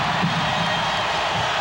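A packed basketball arena crowd at a 1994 NBA Finals game between the Knicks and Rockets roars steadily, a dense, loud wash of cheering that fills the whole brief moment without letup.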